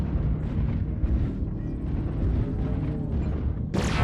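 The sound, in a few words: airstrike explosions in a video game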